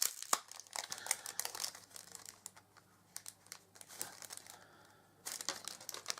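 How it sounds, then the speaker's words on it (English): Small packaging from a mini haul is torn open, a quiet run of close crinkling and ripping in scattered bursts, with a short lull in the middle before the rustling picks up again. "Hold that, rip it open."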